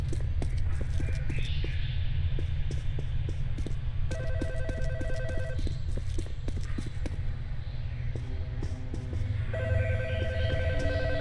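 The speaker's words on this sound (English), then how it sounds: "I can hear a phone ringing from somewhere." A telephone rings repeatedly in the Roblox game Interliminality, two clear bursts of trilling bell tone separated by a pause, layered over a low ambient drone and scattered clicking sounds.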